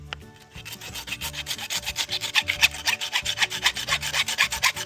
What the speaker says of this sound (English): Then I gotta cut those front shanks off too. Where's my handsaw?